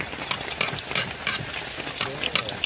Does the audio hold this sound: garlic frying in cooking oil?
yes